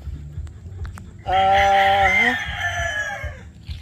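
A sweater-breed gamecock rooster at a gamefarm crows once, loud and close, a long drawn-out call with a rising break midway, following a few faint clucks and barnyard noises.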